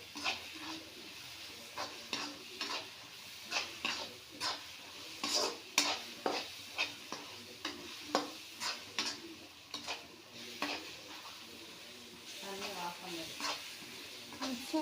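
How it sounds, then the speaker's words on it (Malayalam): Ginger garlic paste is stirred in a pan over high flame while a Tamil Nadu style chicken curry is being made: a soft sizzle with a long series of rhythmic spoon scrapes and taps, fairly close. "സോ നമ്മൾ ഹൈ ഫ്ലെയിമിൽ വെച്ച് ഇതൊന്ന് മിക്സ് ചെയ്യുക."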